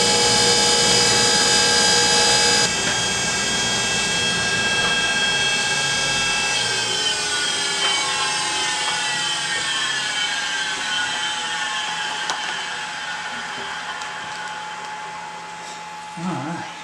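A lathe cutter is ground on a spinning grinding wheel, producing a loud, high whine with bright ringing overtones that sustains throughout and gradually eases off, with faint scraping contact bursts near the end.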